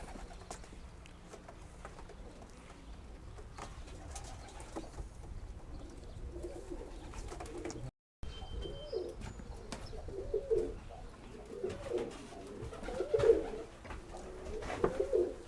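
Tippler pigeons cooing softly in the cocks' section of a loft, low repeated coos growing more frequent in the second half, with faint rustling and occasional chirps.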